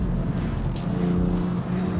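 A Porsche 718 Cayman S or BMW M2 engine pulls hard around 3,500 rpm on a race track, a loud, steady droning roar heard from inside the car, with wind and road noise throughout.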